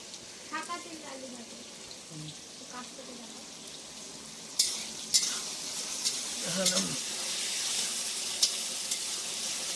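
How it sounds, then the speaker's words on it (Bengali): Potatoes fry in a home kitchen pan with a steady close sizzle, broken by stirring scrapes and a few sharper clinks near the middle, while muffled voices murmur faintly in the background. "মাসি এদিকে আলু ভাজা শুরু করে দিয়েছে"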